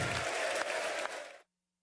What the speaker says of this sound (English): He was met with thundering applause and a standing ovation, a few of them actually